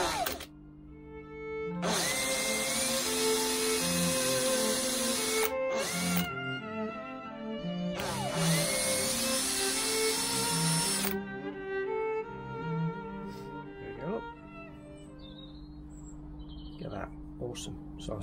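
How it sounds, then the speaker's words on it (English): A small power drill with a 2mm bit whirs in two short bursts while making a pine needle basket, each a few seconds long, with quieter workshop handling noise and faint background sounds in between. "I use a little 2mm drill."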